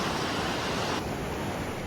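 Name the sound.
Atlantic Ocean waves and surf at Tybee Island beach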